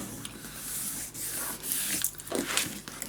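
A bone folder rubs tape down onto paper in soft, scraping strokes, close and quiet, with brief pauses between passes.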